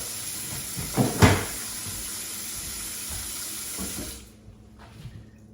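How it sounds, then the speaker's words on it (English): Tap water runs steadily into a sink with a couple of knocks and splashes, then the faucet shuts off, leaving quiet. "We'll rinse out with a little bit of water."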